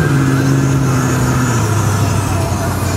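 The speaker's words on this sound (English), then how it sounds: "This is a 350 factory crate engine with fuel injection and 4-speed automatic transmission." 1967 Pro Touring Camaro with a 350 factory fuel-injected crate engine and 4-speed automatic, accelerating on a drive, a loud close engine hum whose pitch steps down midway, under steady road noise.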